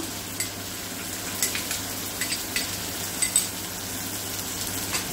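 Tomato, green chili and onion fry in a pan with ginger garlic paste, giving a steady soft sizzle broken by a few light scraping stirs.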